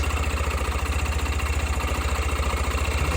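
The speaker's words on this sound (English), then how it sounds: "So that's the engine running." A Yamaha YBR motorbike idles at a scrapyard, its engine chugging in a steady, fast pulsing rhythm with a mechanical cam chain rattle, loud and close throughout.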